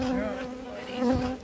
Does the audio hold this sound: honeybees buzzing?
yes